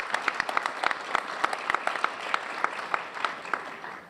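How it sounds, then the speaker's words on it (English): An audience at a rural life conference opening session applauds, a dense, steady patter of many hands clapping at moderate distance, holding evenly for several seconds. "that's deserving of a round of applause"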